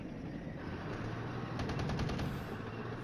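Scorpion anti-aircraft gun firing in the war strategy game Flashpoint Campaigns: Red Storm, a rapid burst of evenly spaced shots over a rumbling battlefield background, stopping abruptly.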